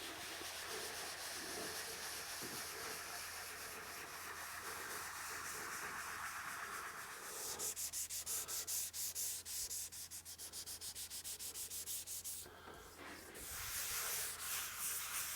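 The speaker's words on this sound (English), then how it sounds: "to remove any swirl marks possibly made by this sanding pad" A sanding pad works over primer on a mahogany guitar body in steady, close rubbing strokes that shift into faster rhythmic passes, broken by brief pauses.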